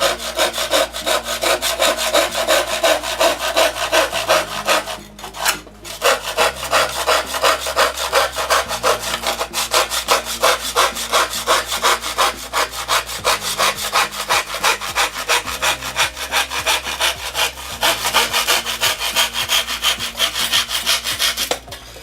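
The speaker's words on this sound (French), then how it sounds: "L'une des mains actionne la scie pendant que l'autre fait avancer le curseur." A hand saw rasps through wood in quick, regular back-and-forth strokes, loud and close, with one short pause partway through.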